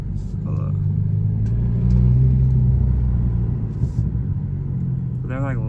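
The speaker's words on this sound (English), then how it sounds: "the car is non-stop burbling" Kia Stinger 2.0 fitted with a Race Chip, its exhaust burbling as a low continuous rumble heard from inside the car, with a short squeaky sound near the end and no clear speech.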